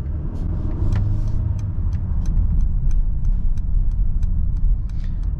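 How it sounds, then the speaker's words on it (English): Steady low road and suspension rumble fills the cabin of a 2023 Mercedes-Benz GLE 350 SUV with a 2.0-litre turbo engine while driving, continuous and fairly loud, with faint light ticks on top and no talking. "there is a lot of sound that is coming from the outside into the inside of the cabin, or from the suspension into the cabin"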